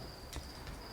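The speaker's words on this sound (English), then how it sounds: "You can all hear the noisy crickets outside Hogwild" Crickets chirp outside at night, a faint, steady high-pitched trill running through the whole brief moment, distant and quiet with no voices.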